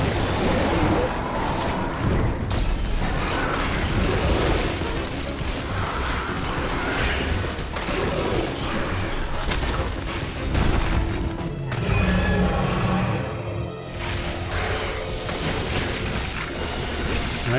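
Missiles fire and burst in Metroid Dread, a dense, loud run of booming blasts and gunfire that barely lets up, with deep rumbling impacts layered under bright crackling debris.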